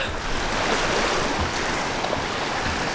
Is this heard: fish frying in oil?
no